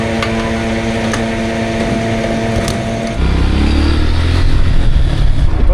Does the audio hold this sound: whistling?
no